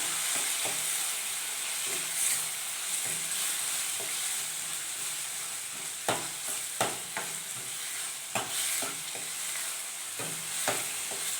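Chili powder being stirred into dal as it fries with methi leaves in a kitchen pan: a steady close sizzle runs throughout, broken by repeated scraping spoon strokes, no talking.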